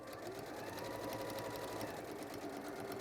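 A sewing machine hums in a steady, quiet run while top stitching along a fabric edge, its fast even motor whirr continuing unbroken for a few seconds.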